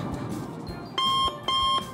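Security checkpoint detector alarm at an airport-style screening gate, giving two steady electronic beeps in quick succession, loud and clear over a quiet background.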